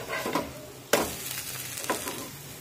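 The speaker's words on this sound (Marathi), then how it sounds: "आता अशाच पद्धतीने याची दुसरी बाजू सुद्धा भाजून घेऊया" A rice flour dhirde pancake with carrot, green chili and coriander roasts on a hot pan, giving a soft sizzle broken by a few sharp spatula scrapes close by.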